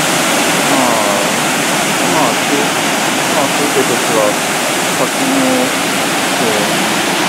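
Steady, dense roar of a waterfall at Yokokawa, Okaya, Japan fills the scene, constant and loud, with faint voices and bird-like chirps barely showing through.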